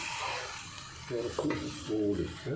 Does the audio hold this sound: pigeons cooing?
no